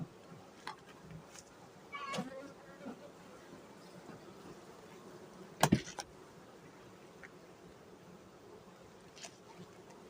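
Honeybees hum in a steady low buzz around a hive, punctuated by a few sharp clicks and knocks of handling nearby; no talk.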